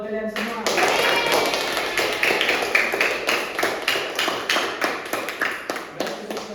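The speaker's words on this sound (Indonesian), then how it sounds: "Sekali lagi tepuk tangan buat kalian semua." Students in a classroom give a round of applause at the end of a microteaching lesson: lively, close hand clapping that starts abruptly and keeps going steadily, loosening into a more uneven, tapering rhythm toward the end.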